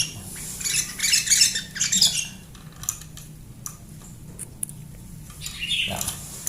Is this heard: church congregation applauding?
no